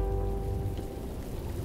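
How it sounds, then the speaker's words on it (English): Rain begins falling in a cartoon, a steady dense patter that fills the whole short moment with no talking. "It's going to rain!"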